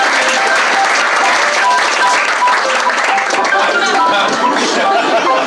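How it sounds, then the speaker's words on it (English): An audience applauds as three poets walk onstage at a poetry show, a sustained, fairly loud wash of clapping mixed with some crowd chatter throughout. "A smattering of applause."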